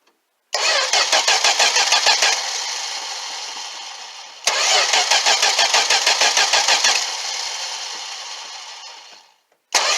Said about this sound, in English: let's see if we can get a cold start out of this thing.